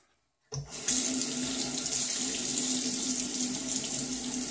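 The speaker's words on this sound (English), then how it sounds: "And I am rinsing with warm to hot water" Warm to hot tap water runs steadily into a sink to rinse a 1977 Gillette Trac II razor, starting abruptly after a moment of silence and continuing as a close, even hissing stream with no talk.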